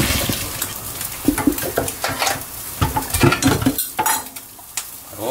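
Chicken breast and pasta are stir-fried in a pan with garlic, with a close, busy clatter of utensil on pan over a soft sizzle, many quick scrapes and knocks, and no talking.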